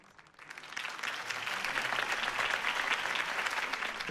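Crowd applause after a political campaign speech in Batman: The Telltale Series, rising from quiet into a sustained, dense wash of clapping that stays full and even to the end.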